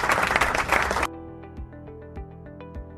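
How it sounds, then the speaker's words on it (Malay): Brief clapping for pupils in a primary science lesson, about a second of applause that cuts off abruptly, followed by quiet tonal music with soft taps. "Saya berikan tepukan sikit."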